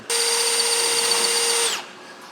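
A power drill whines at a steady, loud pitch as it bores into boat fiberglass, holding for about a second and a half before spinning down and cutting off.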